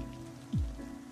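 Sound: rain

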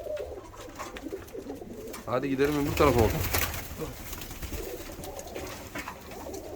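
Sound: pigeons cooing

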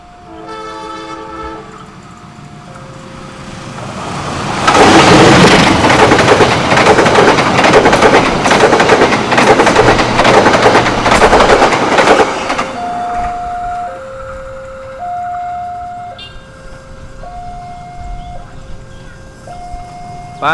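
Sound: passenger train passing with horn

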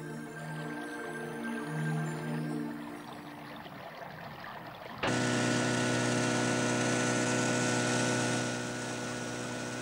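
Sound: outboard motor on a boat

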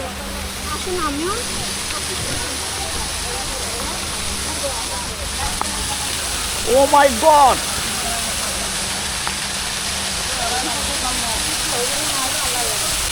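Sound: water park fountain cascading water

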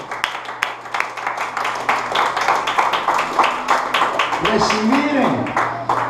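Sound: church congregation clapping

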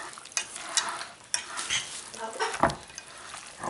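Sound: stirring carne asada cooking in a pan

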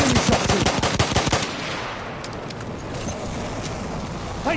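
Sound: enemy gunfire in a video game

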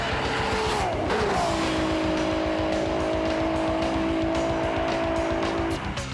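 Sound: Smokey Nagata V12 Toyota Supra at full throttle

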